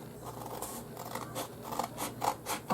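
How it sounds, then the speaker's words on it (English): Scissors snip along a score mark in a cardstock box, giving a run of quiet, close crisp cuts and paper rustles in a steady rhythm. "So take your scissors"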